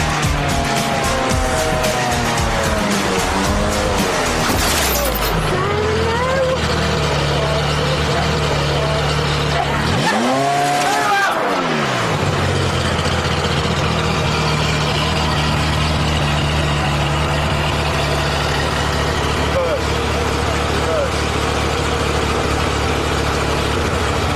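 A Ferrari engine on a race circuit runs loud and near, revving and dropping in pitch, then idling low after a sharp rev in the middle, with a steady drone throughout.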